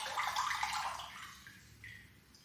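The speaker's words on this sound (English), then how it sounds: "We're squeezing all of the water out." Water squeezed out of a wet sponge during pottery work, a soft hissing trickle and splash that fades after about a second into faint drips, quiet and close.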